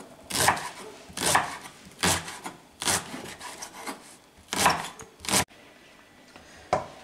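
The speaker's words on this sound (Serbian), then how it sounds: "Kao što vidite, prazi luk sam izrezala" A knife chops through leek on a board in a series of crisp, rasping strokes, each a short burst with pauses between, close and fairly quiet with no talk.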